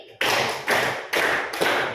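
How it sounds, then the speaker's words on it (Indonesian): Four sharp claps in a steady, slightly uneven rhythm, each ringing briefly in a reverberant room, with no talking. "tepuk empat kali."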